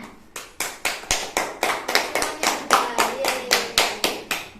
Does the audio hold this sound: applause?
yes